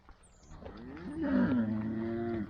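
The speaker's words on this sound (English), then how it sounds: "And cattle get out." Cattle on a farm low out in one long, loud, drawn-out moo with a wavering pitch, close by and heard alone without any talk.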